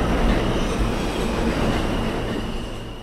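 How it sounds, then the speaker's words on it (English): A subway train rumbles steadily at a station, a loud continuous roar of wheels and cars with faint rhythmic clatter throughout, no voices. "As Ballantyne and I got to the subway station on our walk"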